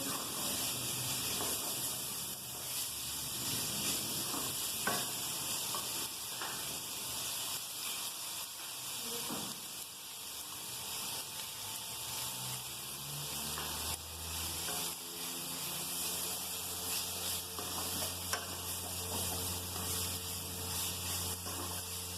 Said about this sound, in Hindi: इसको हम डालेंगे इसके अंदर। तो थोड़ी देर फ्राई करेंगे।